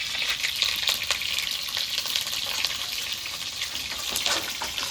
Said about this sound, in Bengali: এবার নেড়ে চেড়ে ডিমগুলোকে ভালোভাবে ভেজে নেব